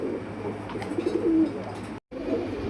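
Pigeons, local and fancy breeds kept for sale, coo in a few low soft rolling phrases close by, over a steady background murmur with a brief dropout near the end.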